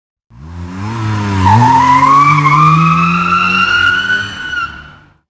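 A loud, sustained AI-generated tire squeal rises in pitch and holds for several seconds, like a car drifting across pavement, then cuts off.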